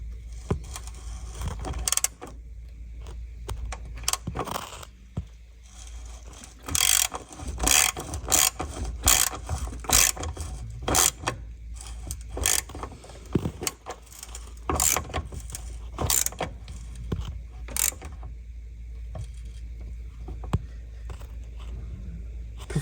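Pipe clamp being fitted over a high-pressure pipe on a Volvo V70/S60/S80/XC90 steering rack, giving repeated sharp metallic clicks and ratcheting bursts, close and fairly loud, with dense clusters in the middle and scattered taps before and after.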